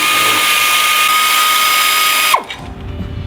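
A power tool with a 13 mm socket spins off the top alternator mounting bolt on a 1989 VW Jetta Diesel MK2, a loud steady drill whine that runs continuously and then stops abruptly near the end.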